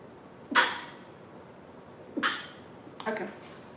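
A person sneezes and sneezes again, two sharp bursts about a second and a half apart, followed by a softer breathy snort, close and fairly quiet in a kitchen during meal prep.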